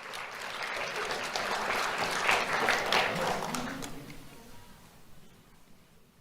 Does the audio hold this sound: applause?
yes